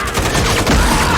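A dense, loud burst of rapid gunfire from Stranger Things Season 4, shots blurring together into a continuous roar for about a second.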